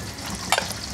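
Milkfish (bangus) frying in a pan in a Filipino home kitchen: a steady, close sizzle with a brief louder crackle or stir near the middle of the second.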